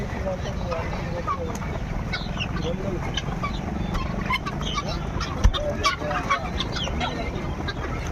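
Several chickens cluck and squawk over a busy weekly market hubbub at Choutuppal, with people chatting close by throughout.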